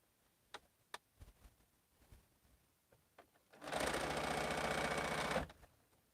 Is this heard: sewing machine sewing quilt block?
yes